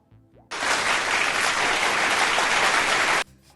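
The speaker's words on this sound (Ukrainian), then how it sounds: "Вітаємо е, бурхливими оплесками" Studio audience at the Lviv BookForum breaks into loud, even applause welcoming two guests from the theatre world, a dense burst of clapping lasting about three seconds between short bits of talk.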